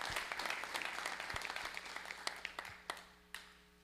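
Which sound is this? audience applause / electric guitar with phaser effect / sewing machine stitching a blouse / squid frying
audience applause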